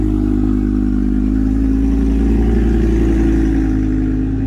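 A BMW G80 M3 Competition engine revs loudly and close, a deep, steady, throaty roar that holds for a few seconds with no talk over it.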